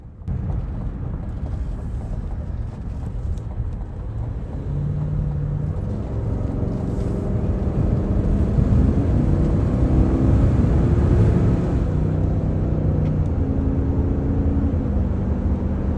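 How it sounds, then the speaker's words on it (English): A 6.2-liter V8 in a nearly 6,000-pound 2024 Cadillac Escalade Sport Platinum SUV accelerates, heard from inside as a steady low engine rumble that builds in pitch through the gears, with no talking. "let's see an acceleration test in the Cadillac Escalade."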